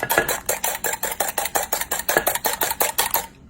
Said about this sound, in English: the next step will be whisking your eggs until you have a foam